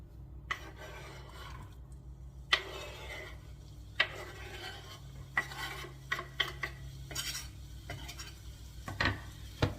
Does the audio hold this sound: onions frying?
yes